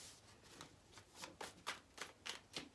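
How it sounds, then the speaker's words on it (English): Tarot cards being shuffled by hand, a quiet run of soft riffling bursts in a steady rhythm that grows slightly louder toward the end, with no talking. "let's shuffle some more."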